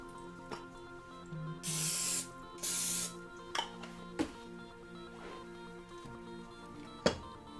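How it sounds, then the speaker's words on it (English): Cooking spray hisses onto a hot waffle iron while donut waffles are being made. Two short, loud bursts of spray come in quick succession, followed by scattered clicks and clunks against a low background hum. "Need some more spray."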